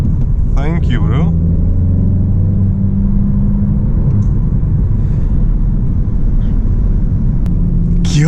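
An Audi A1 40 TFSI small hatchback driving on the road, heard from inside as a steady low engine drone and road rumble, with a few brief voice sounds over it.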